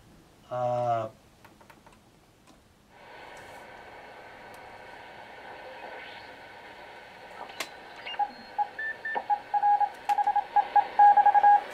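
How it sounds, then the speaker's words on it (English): A shortwave radio tuned around 7 megahertz hisses with steady static, then a series of short, clipped Morse code tone beeps taps out in quick bursts over the noise, growing more frequent toward the end. "There's Morse code on the shortwave. I can go to 7 megahertz."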